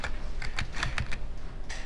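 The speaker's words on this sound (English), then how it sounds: "I hit the N key on the keyboard." Quick bursts of typing on a computer keyboard while working in a spreadsheet: a run of close, crisp key taps in an uneven rhythm, heard alone with no talk.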